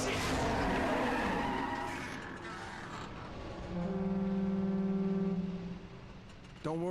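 Car racing in the 2006 Saints Row game, with an engine roaring loud and close, a strained whining rev in the middle, and a sharp squeal near the end, no voices heard.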